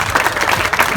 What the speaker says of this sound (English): Let's give a round of applause for Hailey and Ian.